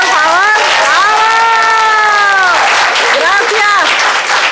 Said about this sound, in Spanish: ahora todos los denle un aplauso al maestro, por favor.